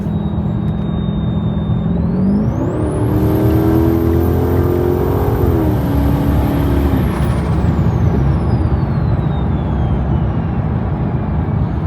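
SRT car engine pulling hard from about 60 to 100 mph, a loud continuous roar that climbs steadily in pitch with a rising supercharger-like whine, then levels off and eases back.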